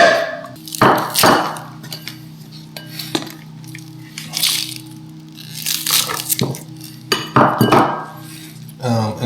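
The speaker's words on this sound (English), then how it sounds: "Put it in our frying pan." Food drops into a frying pan during home cooking, giving several sharp clinks and rattles of pan and utensils spread through the clip, with soft background noise and a steady low hum.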